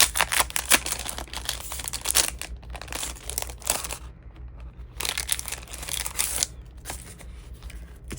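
A zipper on a Jibun Techo planner case gives repeated short, raspy pulls with brief pauses, heard up close and fairly quiet.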